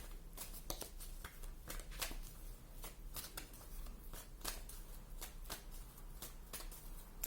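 Tarot-style cards handled and drawn from a deck, a run of quick, close, papery flicks and snaps, soft and steady throughout.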